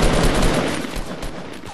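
Loud, dense bursts of automatic gunfire in the video game Fortnite during a battle royale fight, continuous rapid shots close up with no talk over them.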